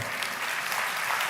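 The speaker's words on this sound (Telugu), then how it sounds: "చప్పట్లో." An audience at a sermon claps in a short, dense burst of applause, steady and moderately loud throughout.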